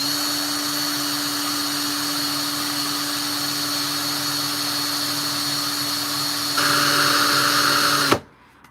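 A ring is sanded with 3000 grit on a powered rotary tool, giving a steady close high whine that grows a little louder near the end, then cuts off abruptly.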